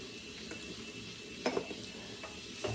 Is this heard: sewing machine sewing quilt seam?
no